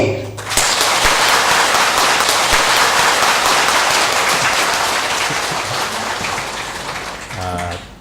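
A lecture audience bursts into loud, dense applause to welcome a Buddhist teacher, sustained for several seconds and slowly thinning toward the end, with a brief voice at the close.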